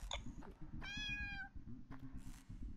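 A cat in the video game Lisa gives one short, clear meow over a dense, busy low background of game music, with no talking.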